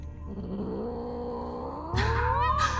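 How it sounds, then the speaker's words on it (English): A cat in Batman: The Telltale Series lets out a long, rising, strained yowl, then breaks into sharp, breathy hisses near the end. "Aw, cute kitty."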